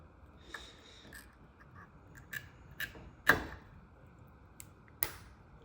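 A Hyde carbide hand cutter scores stained glass in several short, scratchy strokes, one stroke noticeably louder than the rest, heard close up with no one talking over it.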